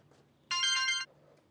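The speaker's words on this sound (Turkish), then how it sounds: "Anan arıyor." Phone ringtone of an incoming call, a single clear electronic melodic burst about half a second long, fairly loud against a quiet room with no speech.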